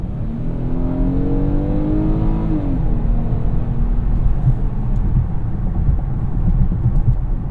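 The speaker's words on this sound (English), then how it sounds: "you can tell the engine is really pulling to the red line" A 2017 Kia Cadenza's engine revs hard under acceleration toward the red line, a steady loud drone with rising harmonic tones that shift once, heard from inside the cabin with road rumble.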